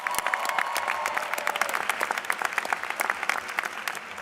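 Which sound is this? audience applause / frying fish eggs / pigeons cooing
audience applause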